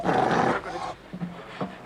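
A dog growls and pants close by in short, rough bursts, loud at first and then fading into softer breathy huffs.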